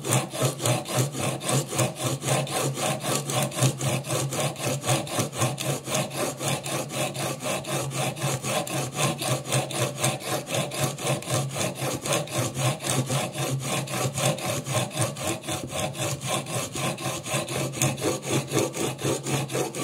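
Steel blade of a Chinese bao (jack) plane being honed to a micro bevel, a steady rapid back-and-forth rasping scrape on a stone, close and loud, repeating evenly without pause.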